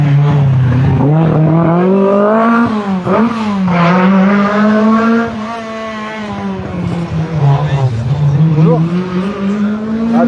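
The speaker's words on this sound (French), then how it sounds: "que la prochaine voiture passe" A rally car at a spectator point on a stage of a French national rally roars close and loud, its engine pitch rising and falling through gear changes over about ten seconds.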